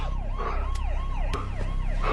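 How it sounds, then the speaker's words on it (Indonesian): A police siren plays from a mobile phone, its wailing tone rising and falling in repeated sweeps over a steady low background rumble, loud and continuous across the short stretch. "dengan suara sirine polisi dari sebuah ponsel"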